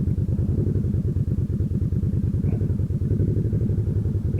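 A motorcycle engine idles close by with a steady, rapid pulsing thump and light mechanical clatter, continuous throughout.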